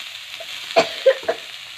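Mixed vegetables with radish greens are stirred in a frying pan, with three distinct scraping knocks of a spatula over a soft, low sizzle, close by.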